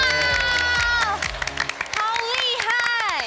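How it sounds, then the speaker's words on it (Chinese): Studio audience at a televised home-cooking contest for fish-fragrant eggplant in Neipu, Pingtung cheers and claps loudly and continuously over bright music, with excited voices mixed in throughout. "掌声鼓励一下！"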